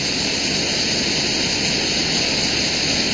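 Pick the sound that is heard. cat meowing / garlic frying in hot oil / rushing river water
rushing river water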